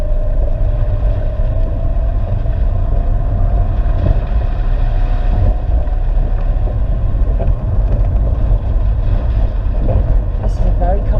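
Steady engine drone and road rumble from a Citroen Saxo with aftermarket alloy wheels, heard from inside while driving into a village at about 30 mph, continuous and fairly loud with someone talking over it.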